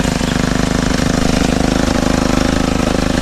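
Outdoor grass cutter engine running steadily, a loud, close, continuous buzzing drone with a rapid regular pulse throughout, no voices.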